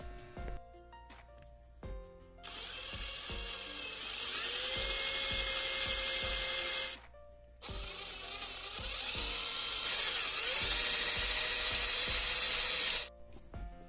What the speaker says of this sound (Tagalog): kailangan natin mag-drill dyan sa part na yan para ma-install yung push start button